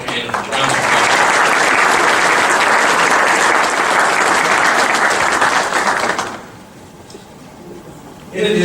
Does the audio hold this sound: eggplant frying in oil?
no